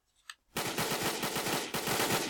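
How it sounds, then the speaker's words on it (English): Automatic gunfire in an online shooter video game: after a faint brief click, a sustained loud burst of rapid machine-gun shots rattles continuously for nearly two seconds, with no talk. "Who's shooting at me?"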